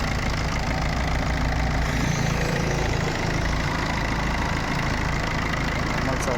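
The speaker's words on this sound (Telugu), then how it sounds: "ఇంజిన్ స్టార్ట్ చేసినప్పుడు ఇక్కడైతే నార్మల్ సౌండే వస్తుంది. ఇది డీజిల్ ఇంజన్ కాబట్టి ఎక్కువ సౌండ్ అయితే ఏం చేయట్లేదు." A Maruti car's diesel engine idles steadily just after starting, a continuous low rumble running through the whole clip, close to the microphone.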